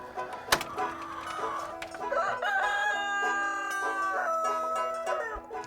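Chickens in a backyard coop, a rooster crowing loud and near with drawn-out calls amid scattered clucks, plus one sharp knock early on.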